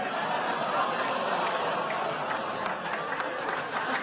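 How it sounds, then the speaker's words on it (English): Studio audience on Saturday Night Live's Weekend Update applauding: a steady, dense wash of clapping mixed with crowd murmur and scattered chuckles, filling the room for several seconds without a break. "Some applause."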